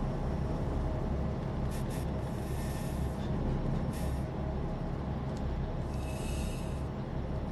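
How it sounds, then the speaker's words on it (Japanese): Steady rumble of a train running in a Japanese railway driving game, a continuous low rolling drone with faint hissing and squealing bursts over it. "なんか高級っぽい電車が走ってるけど"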